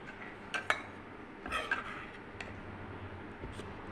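A pot of pumpkin curry lifted off a kitchen stove, with two or three sharp metal clinks and scrapes of the pot and utensil over a low background hum, otherwise quiet.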